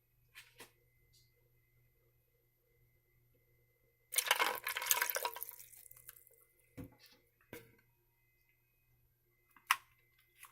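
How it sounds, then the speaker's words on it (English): Water poured into a cup of icy black tea slushie, a burst of splashing and gurgling lasting a couple of seconds, followed by a few scattered drips and clinks in an otherwise quiet room. "And then I'm just gonna pour my water."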